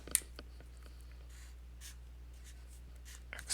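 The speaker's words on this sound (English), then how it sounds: "I'll write this out on some paper." Pen scratching on paper while an equation is written out, soft intermittent strokes and taps, close and quiet over a low steady hum.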